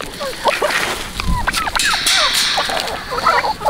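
Farmyard chickens cluck and squawk close by in a busy overlapping chorus, with a few sharp calls and rustling, loud and near.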